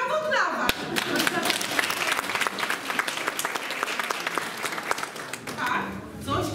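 Continuous applause from an audience at a poet's author meeting, dense steady clapping lasting throughout, fairly close and loud, with a few voices mixed in.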